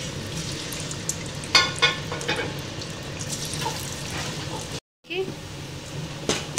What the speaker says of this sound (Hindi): ये अच्छे से इसे फ्राई कर लें